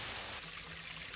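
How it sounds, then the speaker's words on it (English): Gentle water in Norway trickles and pours in a soft, continuous wash with faint bubbling detail. It is quiet and close, with no voices. "some gentle water"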